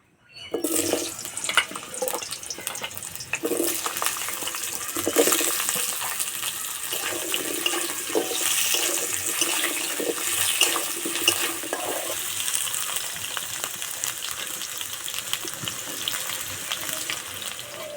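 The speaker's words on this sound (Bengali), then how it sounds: "আলু ভেজে নেব।" Potatoes fry in white oil in a kadai while jackfruit kalia is being prepared. A dense, steady sizzle starts after a brief quiet moment and holds loud and even throughout, with no talking.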